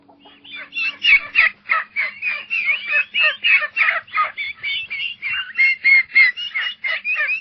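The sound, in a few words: rooster crowing on a farm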